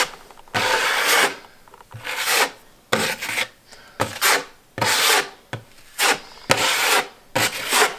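Drywall knife scraping and spreading mud over nail pops on a wall, a rhythmic series of close, rasping strokes with short pauses between each pass.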